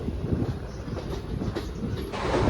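The Simhadri Express pulls into Bhimadolu station with a continuous close rumble of wheels on track and light rhythmic clatter, building slightly louder toward the end.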